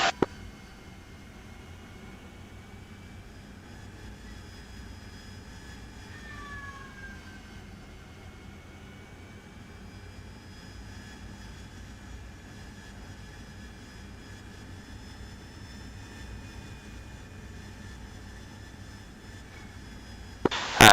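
A jet aircraft engine in a flight video game hums steadily as it accelerates, with a constant high whine and faint tonal shifts over a low rumble, heard close and alone throughout.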